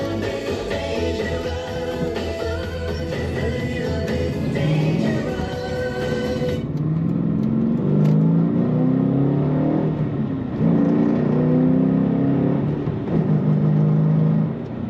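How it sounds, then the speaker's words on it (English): A 2014 Dodge Challenger R/T Shaker with a 6-speed manual accelerates hard. The engine gives a loud, deep roar that rises in pitch through several surging gear pulls, heard up close with no talking. "Fun to accelerate in this Challenger."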